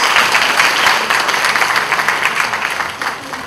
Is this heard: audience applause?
yes